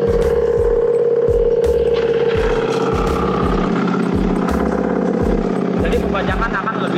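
An FCT25 crawler tractor ploughs a flooded rice field in third gear at low transmission ratio. Its engine drones loud and close and steady, with a heavy rhythmic clatter pulsing through the low end.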